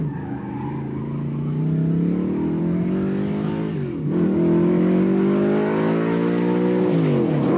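A Plymouth Roadrunner drag racing in a 1/8-mile pro street muscle car event, its engine roaring loud and close, pitch climbing through gears with a sharp dip midway before surging again, no voices.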